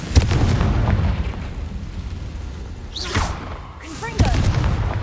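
Confringo spell blasts in the Hogwarts Legacy video game, a couple of booming fiery explosions over rumbling game sound, with a voice talking briefly near the middle.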